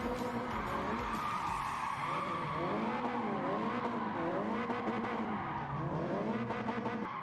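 Continuous tire skid from a car drifting in Gran Turismo 7, played with a steering wheel, with wavering squeal and engine note swinging up and down as throttle is blipped through left and right transitions; loud and steady throughout.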